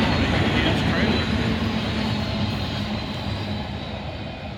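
A westbound freight train rolls beneath a flyover at Oak Harbor, a steady, loud broadband rumble with low droning engine tones, close and continuous and easing slightly toward the end.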